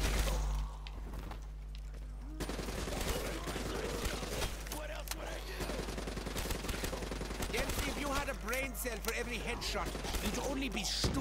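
Sustained automatic gunfire cuts down zombies in Call of Duty Zombies on the Kino der Toten map with power off, dense rapid shots running nearly the whole time with game effects and some voices layered over it.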